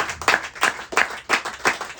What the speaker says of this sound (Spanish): Denle un aplauso al Señor, hermano, por todo lo que Él ha hecho y sigue haciendo